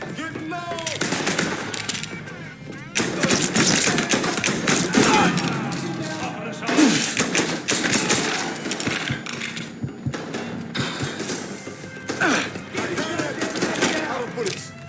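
Rapid machine-gun bursts and scattered gunshots from a firefight in the video game Mafia 3, loud and close, coming in repeated volleys with short pauses, mixed with shouting voices.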